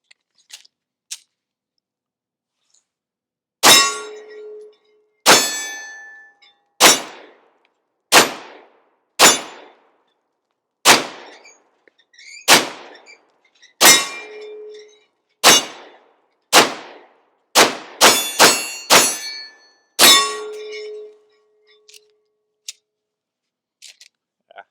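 A Bear Creek Arsenal Grizzly 102 rifle fires about fifteen sharp, loud shots, spaced at first and then in a quicker cluster near the end, each with a short ringing decay, outdoors and without talk.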